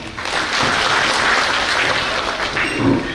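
Steady, loud applause from a crowd at an awards event for journalists in Solapur, a continuous wash of clapping hands holding level throughout without any speech.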